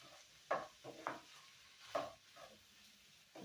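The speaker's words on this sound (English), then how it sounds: "Let's stir that in." Chopped green peppers and onions are stirred in a pan, giving a few quiet, separate scraping and clacking strokes with soft sizzling between them.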